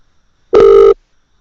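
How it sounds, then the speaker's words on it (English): A single short, loud tone from a telephone keypad press while dialing in to check voicemail, standing alone against silence. "That's how I have to check voicemail."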